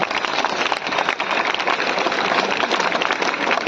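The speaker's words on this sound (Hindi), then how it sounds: "चलिए मेरे तरफ से विद्यार्थी ने तालियां बजाइए" Dense, steady clapping from a large crowd of students at a college seminar, loud and continuous throughout with no voices standing out.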